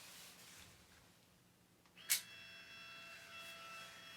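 A Fujifilm Instax Mini 9 instant camera fires its shutter with one sharp click in a quiet room, then a faint motorized whir follows as the print ejects.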